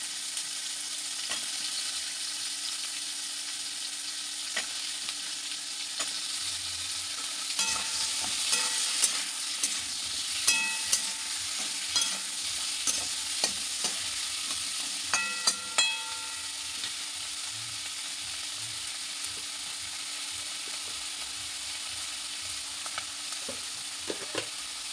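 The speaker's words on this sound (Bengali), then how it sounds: "বেগুন আলুটা ভেজে নেব।" Eggplant and potato fry in a pan, a steady hissing sizzle with intermittent spatula scrapes and clatters that cluster midway through.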